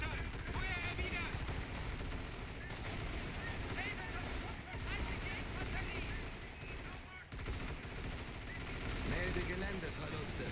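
Gunfire from infantry units returning fire in the Company of Heroes 1 strategy game, rifle and machine-gun bursts rattling continuously under dense battle noise and short voiced unit callouts, loud and busy throughout.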